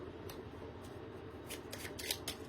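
Tarot cards being shuffled by hand, quick soft riffling bursts that grow busier toward the end, faint and close with no talk.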